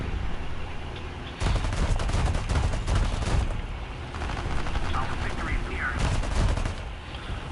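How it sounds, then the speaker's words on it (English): Aircraft machine gun fire in War Thunder, loud sustained bursts of rapid gunfire over a constant engine drone, starting and stopping a few times. "Okay, I'm shooting him down."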